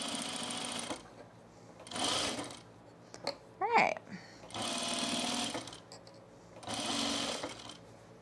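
A sewing machine stitches a seam on a men's Arbor shirt from Merchant & Mills in three separate bursts of steady whirring, with a short spoken exclamation between the second and third runs.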